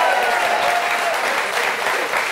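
A theatre audience at a live radio comedy press-review show claps in a dense, even burst of applause that holds steady for a couple of seconds, close and loud.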